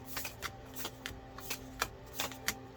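Crisp riffling of a tarot-style card deck being shuffled, with several quick ripples and taps close by, moderately quiet.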